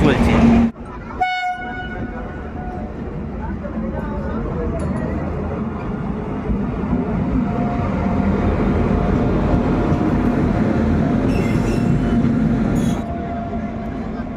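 The 13149 Kanchankanya Express passenger train rumbles steadily along with a loud horn blast near the start, the low rolling noise continuing throughout with faint voices underneath.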